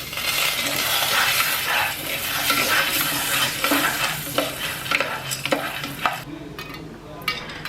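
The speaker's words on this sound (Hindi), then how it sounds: "तो अब ये थोड़े थोड़े फूटने शुरू हुए हैं" Corn kernels in a pan on a gas stove, dense sizzling and rattling with scattered sharp pops that grow sparser as the sound fades.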